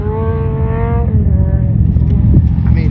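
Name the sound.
V8 dune buggy engine revving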